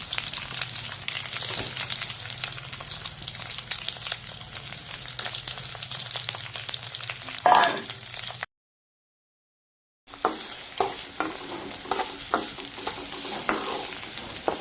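Onion sautés in hot oil, giving a constant dense sizzle close by with occasional spatters and one louder crackling burst midway, interrupted by a short silent break.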